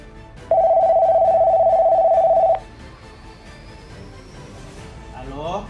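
A telephone bell rings steadily for about two seconds, loud and close, then cuts off, with quiet talk afterward.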